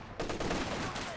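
Machine gun fire from the World War II strategy game Company of Heroes 2 comes as a short, rapid burst of shots, loud and close, over about a second.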